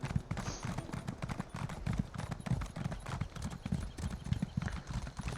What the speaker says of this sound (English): let's get the horse out